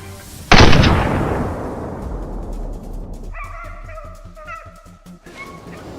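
A single loud gunshot cracks out at a wild boar and trails off into echo, then a hunting dog lets out a quick series of sharp barks and yelps close by.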